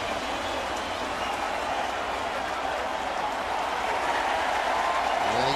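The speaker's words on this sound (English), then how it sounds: "And he gets a curtain call from the crowd." Baseball crowd at Yankee Stadium applauding and cheering a home run curtain call, a dense, steady roar of clapping and shouts that swells slightly toward the end.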